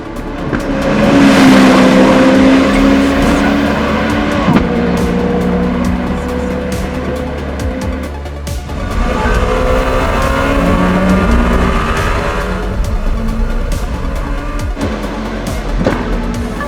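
A Czinger 21C hypercar laps Laguna Seca Raceway, its engine revving hard through rising and falling gears, with tire squeal and the car sweeping past loudly at close range.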